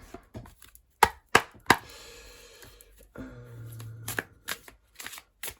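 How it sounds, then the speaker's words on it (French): A deck of guardian angel oracle cards being shuffled at close range, several sharp riffling bursts followed by softer slides and taps, with a short low hum in the middle. "On va retirer des cartes des anges gardiens."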